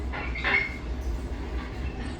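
A Metro-North Hudson Line commuter train rumbling low and steady with faint metallic squeals from the wheels, heard from inside as it rolls along arriving at a station.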